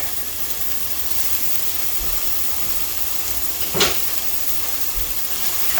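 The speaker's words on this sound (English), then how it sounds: "Get the onions and the mushrooms cooked up here quickly. Add some garlic." Onions, mushrooms and garlic sizzle in a hot pan with a steady hiss throughout, broken by one short, louder burst of crackle.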